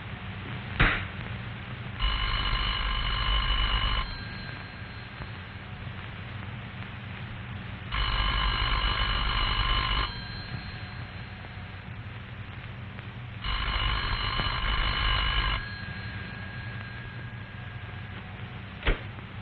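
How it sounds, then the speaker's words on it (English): A phone rings three times in evenly spaced bursts of about two seconds each, separated by several seconds of low hum. "The party at this number will hear a clear, evenly spaced ring that sounds like this"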